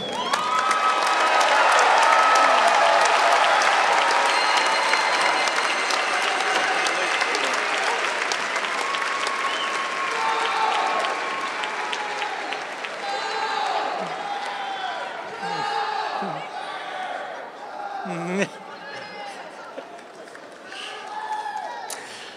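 Large crowd applauding a graduating class at a university graduation ceremony in an arena, loud sustained clapping with some cheering that gradually thins out over about twenty seconds.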